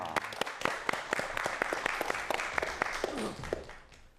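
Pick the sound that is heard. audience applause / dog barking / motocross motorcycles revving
audience applause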